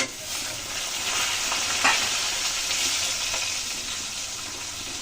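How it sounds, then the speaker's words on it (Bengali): A fish head frying in a pan with potatoes gives a loud, continuous, dense sizzle and crackle, close by, with a faint stirring scrape near the middle and no speech. "ভেজে দিলাম মাথাটা।"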